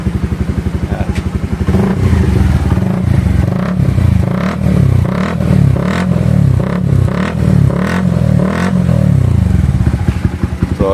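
A Rouser NS125 motorcycle fitted with an Akrapovic M1 exhaust idles and then is revved repeatedly, loud close blips rising and falling in a steady rhythm over a burbling idle.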